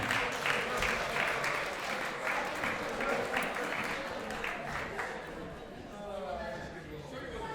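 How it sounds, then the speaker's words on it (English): An awards-show audience claps loudly and steadily for several seconds, then the applause thins out as people begin chattering. "Let's give another big round of applause, huh?"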